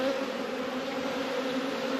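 A dense, steady drone of honey bees fills a hive opened for inspection, some returning with pollen loads, holding an even close hum throughout with no voices.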